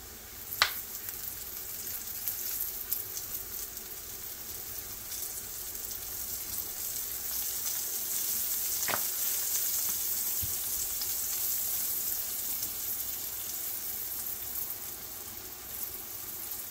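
Raw banana slices fry in oil in a pan for a crispy South Indian style fry, a steady close sizzle running throughout with a few sharp clicks of utensils.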